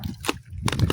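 A tree branch snaps and breaks off in the open for goat fodder: a sharp crack near the start, then a second burst of rustling, crunching leaves and twigs lasting to the end, close by with no talk.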